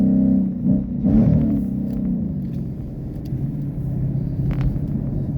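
A 2016 Ford Mustang GT engine on Bridgestone Blizzak WS90 tyres hums steadily with road rumble from inside, driving on a snowy, icy road at -20 degrees, a brief acceleration swell early on, continuous and moderately loud.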